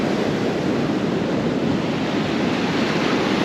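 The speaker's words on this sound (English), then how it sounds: "Maybe I'll block the noise of the waves a little bit." Ocean surf rolls onto a North Carolina beach in cold December weather, a steady, loud wash of breaking waves with wind buffeting the microphone throughout, no voices.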